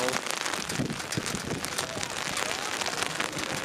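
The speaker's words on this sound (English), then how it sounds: "Man, this rain is really coming down now." Heavy rain pours down at an outdoor softball game, a dense, steady hiss of drops pattering on surfaces and an umbrella, loud and close throughout.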